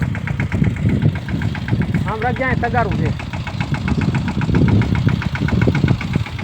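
A tractor engine runs steadily through the whole stretch, a low rumbling idle with some knocking, while voices talk over it close by.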